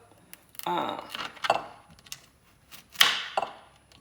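A kitchen knife slicing squash into thick quarter-inch rounds on a board, several separate sharp cuts and clunks at close range with pauses between them.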